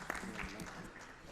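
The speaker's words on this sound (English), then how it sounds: "So just a round of applause for all the people that worked on that grant," Faint round of applause from attendees at a board of education meeting, a brief patter of scattered clapping heard at a distance with some speech mixed in.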